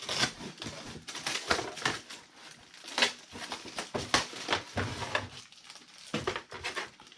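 Scissors or a blade cuts out a small blue and grey plastic canopy for a HobbyKing F18 foam jet model, a close run of dense, irregular snips and crackles with no talk.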